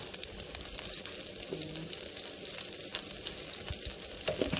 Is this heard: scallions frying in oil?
yes